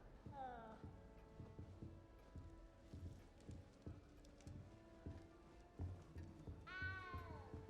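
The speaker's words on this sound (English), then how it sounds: "That meowing is stressing me out." A cat meows repeatedly in Hogwarts Legacy gameplay, high, drawn-out cries against a soft, steady pattering rhythm, with faint background tones.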